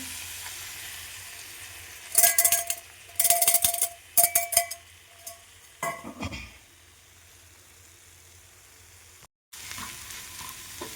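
Three eggs fry in a pan with loud bursts of sizzling as they are stirred and moved, interrupted by quieter pauses and a short silent gap before a soft sizzle resumes.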